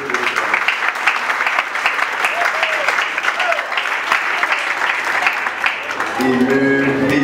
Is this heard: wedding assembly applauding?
yes